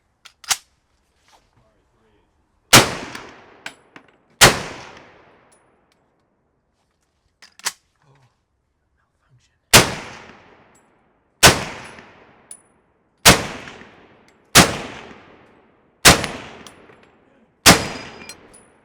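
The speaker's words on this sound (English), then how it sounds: "we're going to shoot the M1 first" M1 rifle fired outdoors, roughly eight loud sharp shots with ringing decay, first two close together, then a pause and a steady run of six at about one-and-a-half-second intervals, with faint handling clicks between.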